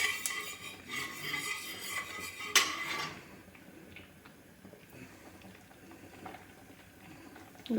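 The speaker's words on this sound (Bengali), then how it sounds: "এদিকে ভাতটা ফুটছে" Rice boiling in a pot on a home kitchen stove, a soft bubbling patter beneath sharp metallic clinks of a utensil against the pot in the first few seconds, then quieter simmering.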